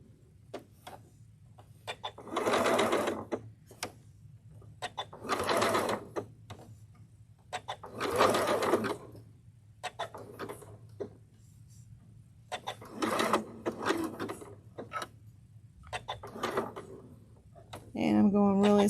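A sewing machine stitching a pointy heart appliqué, slow bursts of close mechanical whirring broken by pauses for pivoting, with a low hum between runs and someone talking at intervals.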